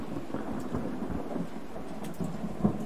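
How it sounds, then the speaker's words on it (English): Thunder sound effect with rain set up in Unreal Engine 4, a low rolling rumble under steady rainfall, with a slightly sharper crack near the end. "then we get the thunder afterwards as well"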